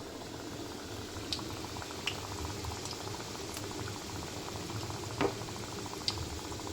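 Shaped thekua dough frying in moderately hot oil on a low gas flame, a steady soft bubbling sizzle with a few sharper pops and crackles, close and unbroken.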